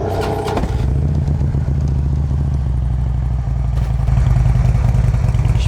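Harley-Davidson Street Glide FLHX touring motorcycle with Reinhardt exhaust and 28,225 miles, idling loud and close with a deep steady rumble and a brief rev toward the end.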